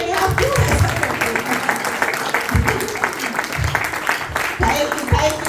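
Applause from a congregation at a Pakistani Punjabi-Urdu church celebration, a steady patter of clapping running throughout with speech and voices mixed in over it.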